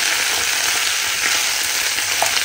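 Onions and garlic fry in hot oil in a home kitchen pan, a loud, close, continuous sizzle and crackle with no speech over it.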